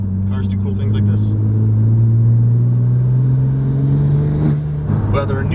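A tuned, ECU-flashed Porsche 997 Turbo rumbles loudly up close, the exhaust note rising and swelling as the engine revs and then settling back.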